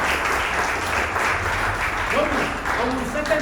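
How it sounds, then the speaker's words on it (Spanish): A church congregation claps in sustained, steady applause that fills the room at full volume, with a voice speaking over the clapping. "Démosle un aplauso"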